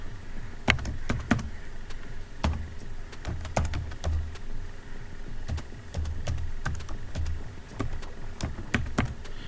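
A password is typed on a laptop keyboard in clear, close key clicks that come in irregular bursts with brief pauses, with no speech.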